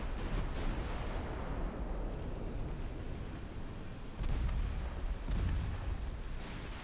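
Naval guns fire a salvo in the warship game Ultimate Admiral Dreadnoughts, heavy low booms rumbling under a continuous roar, with louder blasts late in the clip.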